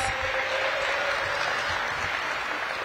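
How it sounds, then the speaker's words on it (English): A crowd applauds at a DC recreation center event, dense steady clapping that holds at an even, fairly loud level for a few seconds with no pause. "Give Raven another big round of applause."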